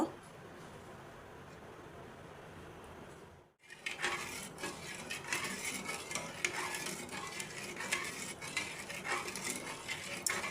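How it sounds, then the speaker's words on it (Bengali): Salt solution in a pot on the stove, stirred after a brief quiet pause, with steady spoon scraping and light metallic clinks that continue close and fairly loud. "তারপরে আমি দ্রবণটা নাড়তে থাকব"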